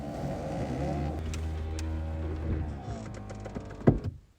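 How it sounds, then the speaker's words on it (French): The electric convertible top of a 2007 Porsche Boxster S motors closed with a steady whirring hum that shifts pitch partway through, then stops and ends with a couple of sharp latching thunks, close and alone. "Pour fermer la capote, très simple, à côté du levier de vitesse, vous retrouverez un sélecteur pour refermer la capote."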